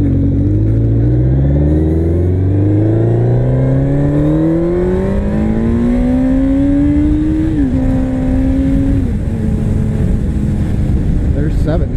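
A Kawasaki Z1000 motorcycle accelerates through the gears up close, engine pitch climbing steadily, dropping briefly at a shift, then climbing again under wind rush, with a rider speaking briefly.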